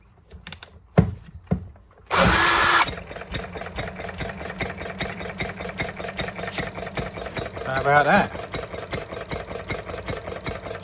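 A small Stirling Kits Retrol G16 stationary gas engine cranks over after a few bumps, then catches and settles into a steady, fast-ticking run, with a brief voice over it.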